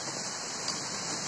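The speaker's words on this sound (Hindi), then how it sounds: "कितनी तेज बारिश हो रही है।" Heavy rain falling in a steady, dense hiss, continuous and fairly loud over a brief stretch with no talk.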